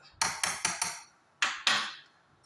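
Cake batter for a soft, fluffy homemade cake being beaten and mixed with salt and baking powder, heard as a few sharp knocking strokes in quick succession, a pause, then two more, close and alone.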